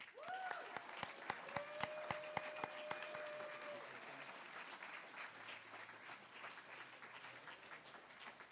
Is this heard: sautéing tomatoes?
no